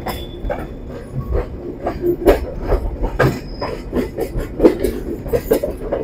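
The Intercity Chitra Express pulls out of Poradah Junction at night with a rumbling, rhythmic clatter of wheels over rail joints, heard from inside a coach with irregular knocks and a faint squeal.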